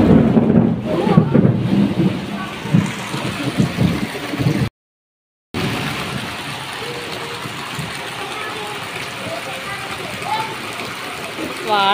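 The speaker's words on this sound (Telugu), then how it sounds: "ఉరుములు మెరుపులు" Heavy rain pours during a thunderstorm near a house, with low rumbles of thunder and rushing runoff water; a steady, loud wash continues except for one brief total dropout, and voices may be faintly present.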